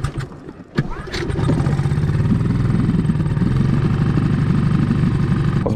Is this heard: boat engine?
yes